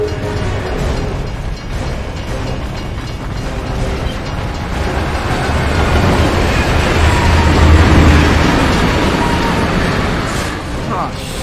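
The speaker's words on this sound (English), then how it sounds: "Jack, it's a bloody train coming the other way!" In the Gears of War 3 video game, a train approaches through a tunnel with a heavy, swelling mechanical rumble and clatter that builds toward the middle, with character voices over the noise.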